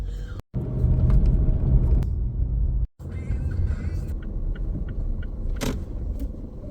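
A car drives along a road in America with a constant low engine and road rumble from inside the cabin, broken by two brief cuts, with no talk.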